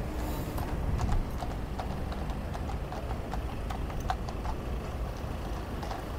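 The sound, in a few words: horse-drawn carriage hooves clip-clopping leaving Buckingham Palace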